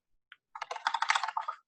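Typing on a computer keyboard, a single click followed by a brisk run of about a dozen quick keystrokes, close and clear with no voice.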